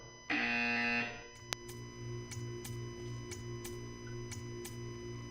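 A flat, droning buzzer from the video game Portal 2 sounds for about a second. A single sharp click and a steady ticking follow, all over a low mechanical hum.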